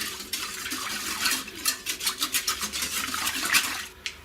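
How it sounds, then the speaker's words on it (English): A spoon mixing peppermint chocolate popsicle mixture with green food colouring, a quick run of rhythmic scraping and swishing strokes against a bowl, close and fairly quiet. "Just mix that through."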